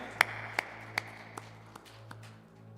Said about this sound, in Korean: 우리 주님께 감사와 찬양과 영광의 박수 올리도록 하겠습니다.